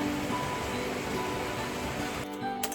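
Steady rain falls on a rural property, a dense, even hiss of drops spreading across the whole clip with no voices, thinning briefly near the end.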